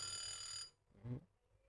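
A secondhand Japanese alarm clock rings with a bright, continuous electronic tone for about half a second. It stops abruptly and is followed by a soft handling click.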